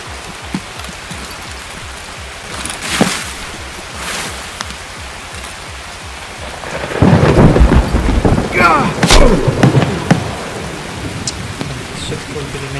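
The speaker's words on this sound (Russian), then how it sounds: "Нихера не слышно с этим дождем." Rain and rolling thunder in Escape from Tarkov: a steady hiss of rainfall runs throughout, a thunder rumble builds loudly past the midpoint, and a few sharp cracks sound alongside.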